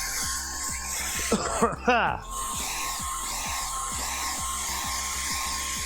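A hair dryer blows a steady, loud whir over a painted sushi canvas, running continuously throughout while a person coughs or clears their throat briefly partway through.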